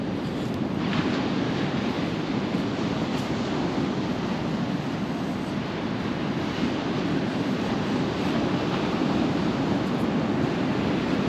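Steady ocean surf washing onto the beach at Nags Head, Outer Banks, with a broad rushing roar, mixed with wind buffeting the microphone; no voices.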